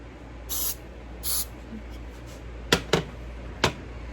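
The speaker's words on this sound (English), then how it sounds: "The first thing you want to do is spray the pan." Two short hissing bursts of aerosol cooking spray onto a baking pan, followed by a few sharp clicks and taps of cookware in a quiet room.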